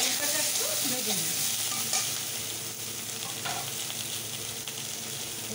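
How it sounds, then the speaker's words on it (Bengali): Cut eggplant frying in hot oil in a pan, a steady close sizzle with occasional stirring scrapes, no voices. "এই তেলে বেগুনটা একটু ভেজে নিই"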